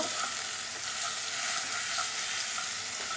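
Minced shrimp and chicken fry together in a pan for a corn and mushroom soup, a continuous close sizzle with light stirring scrapes and no talking.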